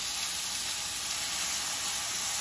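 Meat for a Philly cheesesteak browning in a pan over medium-high heat, giving a loud, dense, unbroken sizzle close up with no voices.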